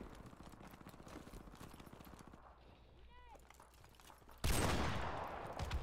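A Barrett .50 cal sniper rifle fires once in a video game, a single loud sharp blast with a long tail, following steady game ambience and faint chatter.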